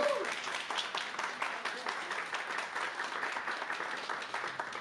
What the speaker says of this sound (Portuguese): uma salva de palmas para a Gilca.